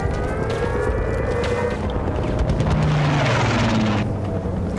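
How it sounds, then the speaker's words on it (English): A propeller plane drones overhead in a Battlefield 1943 match, a steady engine roar with a pitch that slides and wavers as it passes, loud and continuous amid battlefield background noise. "That's a plane."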